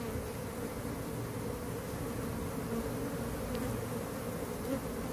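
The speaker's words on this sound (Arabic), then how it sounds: "ومن الجهة الخارجية رجع النحل نفخه وبدأ في جمع الرحيق" Honeybees buzzing steadily around an open hive after the frames were inspected and sorted, a dense, continuous low hum close by with no voices.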